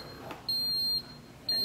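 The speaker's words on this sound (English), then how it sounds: "And then the thing beeps at me and lets me know it's done." Two steady electronic beeps from a Ninja Bar coffee maker signal the brew is finished, each a sustained high tone about half a second long, separated by a short pause, clear and close in a quiet kitchen.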